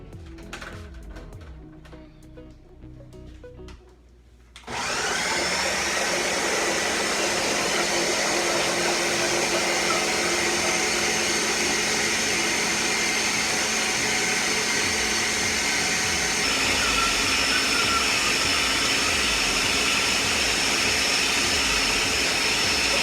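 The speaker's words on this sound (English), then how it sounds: "Now that you have everything inside of your blender, you are going to blend it." A blender starts up abruptly after a few seconds of quieter background noise, then runs at a loud, steady whirring roar until the end.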